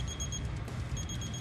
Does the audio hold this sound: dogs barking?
no